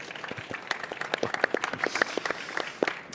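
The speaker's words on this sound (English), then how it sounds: "I think we can give them a warm welcome round of applause" Scattered audience clapping welcomes panelists at a plant health and seed trade event, with separate claps audible as distinct sharp hits rather than a dense roar. The claps are moderately loud and irregular over a few seconds.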